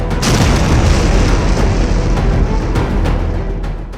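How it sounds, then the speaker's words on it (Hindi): A massive explosion from a suicide bombing in Ankara, Turkey, roars and rumbles continuously, a dense, loud blast with deep booming low end filling the whole moment. "धमाका इतना जोरदार कि गूंज अंकारा से लेकर वॉशिंगटन तक सुनाई देती है।"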